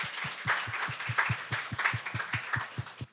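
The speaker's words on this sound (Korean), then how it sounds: "한번 박수하겠습니다." A church congregation at a 33rd anniversary service claps together in a crisp, even rhythm, roughly four claps a second, close and distinct, for about three seconds.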